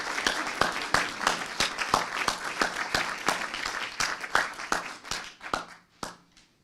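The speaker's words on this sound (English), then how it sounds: "Let's give them a round of applause." An audience at a congressional district debate gives the candidates a round of applause, many hands clapping steadily for several seconds before thinning out and fading at the end.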